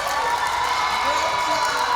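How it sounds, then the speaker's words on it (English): Audience at an elementary school awards ceremony applauding in a steady, dense wash of clapping and crowd noise, close and fairly loud, with a few cheers mixed in. "let's give them all a round of applause."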